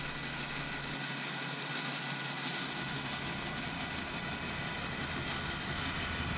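A dense, steady roar rumbles on without a break, the Union Pacific 4014 steam locomotive churning close by as it climbs Donner Pass, with a broad, sustained low drone and no talk.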